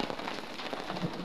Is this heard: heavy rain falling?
yes